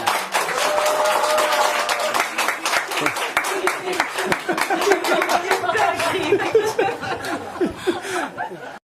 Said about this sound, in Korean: 우리 고생하신 유준 교수님께 박수 치면서 마치도록 하겠습니다